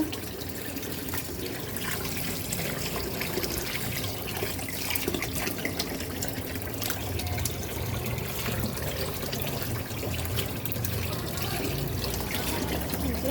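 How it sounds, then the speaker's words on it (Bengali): Water trickles steadily from washed raw chicken pieces resting in a strainer in a home kitchen, a soft continuous splashing and dripping with faint background noise throughout. "এখন হচ্ছে এভাবে পানি ঝরাই নিব"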